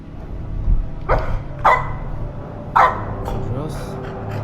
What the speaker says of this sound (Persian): صدای سگ میاد، مگه اون نخوابیده بود؟